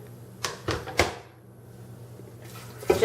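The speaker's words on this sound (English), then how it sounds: "Add water." Water poured into a cooking pot of peeled, cubed potatoes, heard as a few short splashing bursts close by, then a quieter pause and another brief pour near the end.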